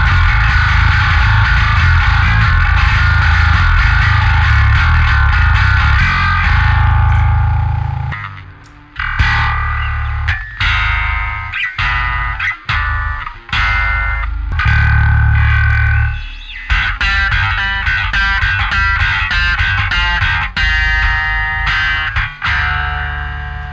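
Bass guitar played through a Neural DSP Parallax amp sim plugin, a loud, distorted, clanky low-end tone with a sustained opening note followed by choppy riffs and short pauses, heard alone.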